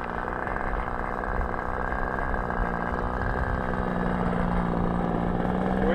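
An RC model airplane engine hums steadily and loudly while the plane taxis at low throttle on an outdoor field, a constant drone throughout.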